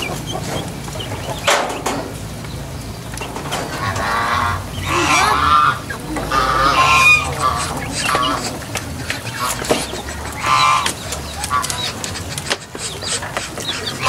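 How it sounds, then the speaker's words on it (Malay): Chickens cluck and squawk while feeding around a rural yard where ducks roost, close and busy, with a goose-like honk at times and someone talking now and then over the birds. "Nah, itu ayam-ayam"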